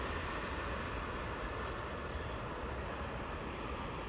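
An Airbus A350 airliner at Heathrow roars in a steady, broad, unbroken engine rumble that stays loud and constant without speech.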